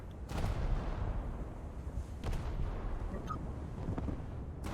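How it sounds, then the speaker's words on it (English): A rapid run of muffled booming explosions in a naval video game, several sharp blasts layered over a continuous rumbling din, loud and close with no pause between them. "What is the deal with that ring of explosions bug?"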